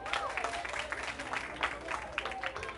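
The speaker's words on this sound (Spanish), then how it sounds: "Aplauso para ellos, que mi gente." A crowd applauds at a lively club performance, with quick, dense hand claps at fairly low loudness and a few cheers mixed in across a short stretch.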